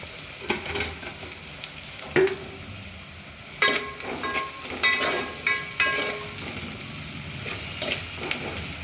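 Onions frying in a pan for onion pakodi pulusu, a steady sizzle broken by scraping stirs and clinking spoon strokes, with louder bursts of stirring in the second half; no talking.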